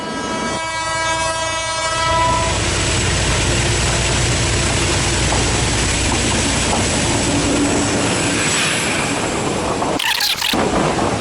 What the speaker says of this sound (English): Unfortunately, this is not our train.